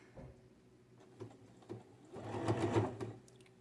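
A sewing machine stitches fabric for pockets in a few short, faint bursts, then a longer, louder run of rapid mechanical clatter.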